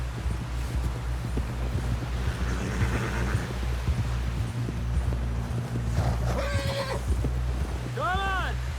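Loud horse whinny near the end from Red Dead Redemption 2, over steady clip-clop of hooves and a constant low rumble throughout.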